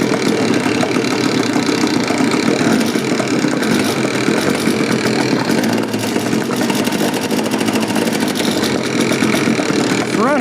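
A small two-stroke engine on a tiny jet boat runs steadily, loud and close, with a buzzing, raspy drone for the whole stretch, while voices speak over it.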